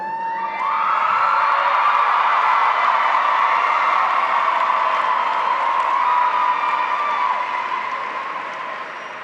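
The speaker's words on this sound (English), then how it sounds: "Audience members, please hold your applause until after all diplomas have been conferred." Graduation ceremony audience at Henry W. Grady High School applauding and cheering, a dense sustained wash of clapping with whoops from a large crowd, steady and loud for the whole stretch before slowly easing toward the end.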